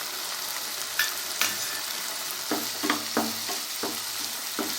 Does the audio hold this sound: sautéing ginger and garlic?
yes